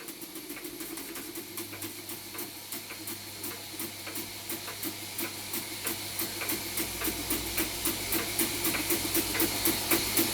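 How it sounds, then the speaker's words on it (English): A Weeden No.8 model steam beam engine, at least 113 years old, runs under steam with a close, steady rhythmic chuffing and hiss that gradually grows louder, with no voices. "Weeden's only true beam engine, at least 113 years old,"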